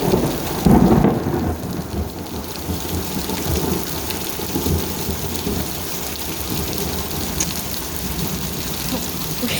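Thunderstorm in Connecticut with rain pattering steadily on surfaces and low rumbling thunder rolling underneath, fairly near and continuous throughout.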